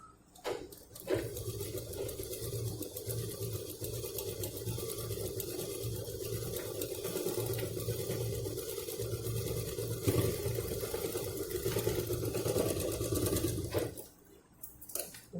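Sewing machine running a topstitch on cloth for a homemade purse, a close, continuous rapid whirring for about thirteen seconds with a short start and stop at each end.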